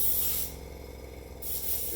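Airbrush loaded with water and a little detergent spraying in a steady close hiss, louder at the start and end with a softer stretch in the middle.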